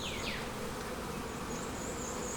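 Honey bees buzz steadily around honey frames during a beekeeping honey harvest, a constant close drone with a few individual bees zipping past, no voices.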